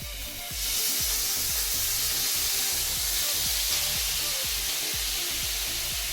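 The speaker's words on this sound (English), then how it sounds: "You know you've got a good hit when you get a good sizzle." Loud, steady sizzling hiss as beef goes into a hot pan, starting suddenly and continuing, with faint knocks and scrapes of cooking beneath it.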